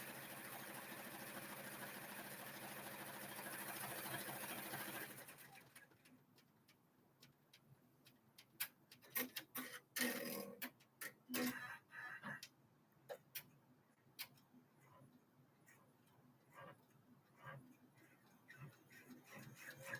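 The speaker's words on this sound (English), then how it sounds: "it's at its normal speed, but it sounds slow because it's been oiled." An oiled embroidery sewing machine on a hooping station runs at normal speed, ticking in a quick, uneven mechanical rhythm after a louder whirring start, close and fairly quiet.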